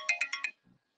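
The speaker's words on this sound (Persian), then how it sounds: "اینم تلفن از پلیس میده و نمیدونم دوباره زیتون زنگ میزنه، باید خاموشش کنم یه لحظه" A telephone ringtone from a police call plays four quick bright repeated tones, fairly close and clear, then stops, with a brief faint low sound just after.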